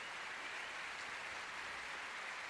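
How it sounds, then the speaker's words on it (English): Dense, continuous applause from a theatre audience as performers take their bows after a ballet staging of The Hard Nut, a steady wash of clapping at moderate distance. "Gaining their applause."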